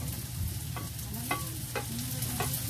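Minced garlic sizzles steadily in a pan, now golden brown, for chicken liver adobo; a spatula stirs through it with soft scrapes, close and continuous, and no one speaks.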